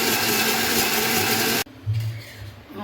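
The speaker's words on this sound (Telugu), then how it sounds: "ఒక్క సెకండ్ ఇలా రుబ్బితే చాలండి." Mixer grinder blending tomato chutney, a loud steady whirring drone for about a second and a half that stops abruptly, followed by quiet handling sounds.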